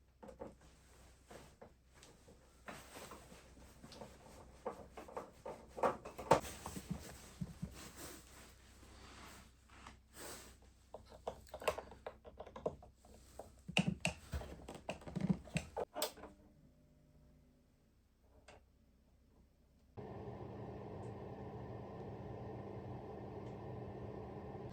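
A newly installed kitchen exhaust hood fan in a snowbound log cabin runs with a steady broadband whoosh that switches on abruptly partway through and holds constant, after a stretch of clattering handling noises.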